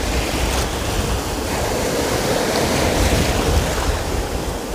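Sea waves wash and break steadily on the shore at Anapa, a continuous broadband roar of surf with some wind noise on the microphone, close and fairly loud with no voices.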